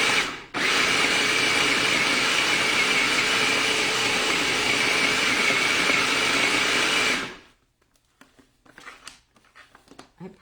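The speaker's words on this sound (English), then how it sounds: "I apologize for the noise of the food processor" A food processor whirs loudly and steadily for about seven seconds, then stops, leaving faint clatter and light handling noises.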